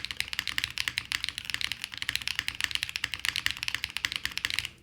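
Rapid clacky keystrokes from a QK75N mechanical keyboard, steady fast typing close up with no talking.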